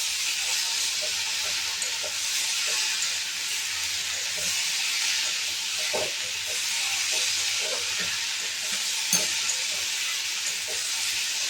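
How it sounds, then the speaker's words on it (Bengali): Prawns frying in a pan while being stirred: a steady, dense sizzling hiss runs throughout, with occasional faint clicks and scrapes from the stirring utensil. "এবার আমি দেখো ওই চিংড়ি মাছটা আগে দিয়ে দেবো। দিয়ে 2 মিনিট নেড়ে নেবো এটা।"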